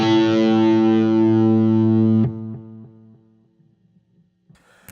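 Electric guitar through a distorted preset with a Boss RV6 reverb pedal set full on, a sustained loud chord ringing for about two seconds, then a long reverb tail decaying slowly into near silence before a faint pick noise.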